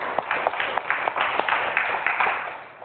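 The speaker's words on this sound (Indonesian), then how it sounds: "Kasih aplaus untuk temannya" Classmates clapping for a fellow student in a classroom, a short, sparse burst of hand claps from a small group that fades out within a few seconds.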